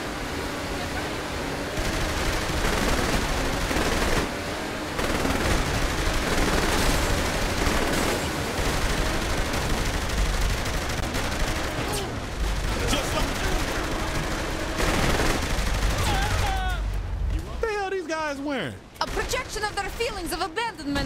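Gunfire in Saints Row: The Third Remastered, a sustained barrage of shots and bursts running for most of the stretch. A voice speaks over the shooting, which ends in a few distinct sweeping tones.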